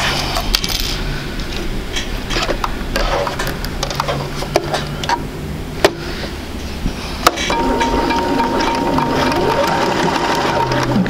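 A sewing machine stitches a quilt seam, its rapid mechanical chatter running steadily throughout, with a few sharp clicks and knocks and a faint background tone near the end.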